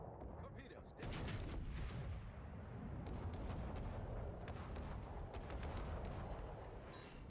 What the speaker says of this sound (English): Enemy battleship sighted. Torpedoes detonated.